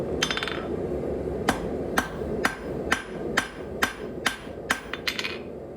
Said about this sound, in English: because the anvil is the other side of your hammer